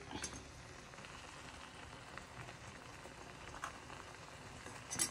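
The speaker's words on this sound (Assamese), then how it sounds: "এফালে খুব ধুনিয়াকৈ উতলিবলৈ লৈছে" Water heats in a pot for a flaxseed face pack, giving a faint, steady bubbling hiss with soft irregular pops throughout and no talk.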